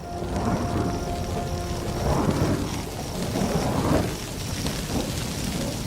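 Thunder from a lightning storm over dry grassland rolls in long continuous rumbling waves, loud and sustained, with a rain-like hiss beneath and no voices.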